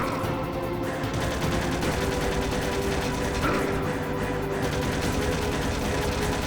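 Rapid gunfire from the Metal Gear Solid: The Twin Snakes finale chase rattles continuously in a dense, loud, unbroken barrage, with engine roar and other action noise filling the mix throughout.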